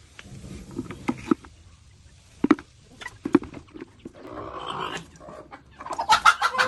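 Chickens cluck on a small poultry farm in short, sharp bursts separated by pauses, with a livelier flurry of clucking and rustling near the end.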